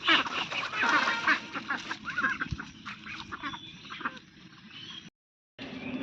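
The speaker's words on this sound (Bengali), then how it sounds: "হাঁসগুলো কিছুক্ষণ বাদে বাদে এমন চিল্লানি দেয়" A group of ducks quacks nearby in bursts of harsh, loud calls that overlap and then thin out, with a brief gap of silence near the end.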